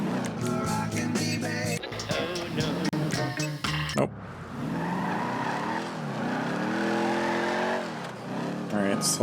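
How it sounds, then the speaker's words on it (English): A car races in the GTA 5 video game, engine revving and tires squealing loudly, then the engine note drops into a steady drone with sliding pitch as it drives on, with game dialogue and talk over it. "I think a race is a good showcase for performance too, because obviously you do a lot of driving in the game"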